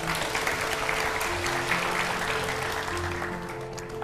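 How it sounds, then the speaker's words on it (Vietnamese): A studio audience on a Vietnamese comedy TV show breaks into dense, steady applause that fills the room and eases off slightly toward the end. "mọi người vỗ tay đi nào"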